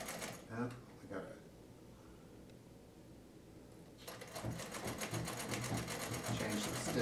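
A vintage Bel Air sewing machine starts up after a quiet stretch of handling noises and faint sounds, then runs in a fast, even clatter of stitches that carries to the end.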